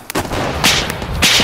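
Loud, sharp gunfire bursts in the Arma 3 video game on the Stratis map during a mortar operation, with enhanced JSRS3 weapon sound effects: rapid, booming reports cracking close by in quick succession.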